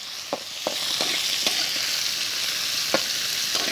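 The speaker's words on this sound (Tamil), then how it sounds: "பட்டை, சோம்பு, கிராம்பு சேர்த்துப்போம். வெங்காயம் நல்லா வதக்குங்க." Onions sauté in hot oil with cinnamon, fennel and cloves, a steady loud sizzle running throughout, broken by several sharp clacks of a spoon stirring against the pan, close up and without any voices.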